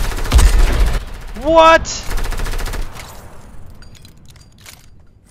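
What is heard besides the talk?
gunfire in the video game Fortnite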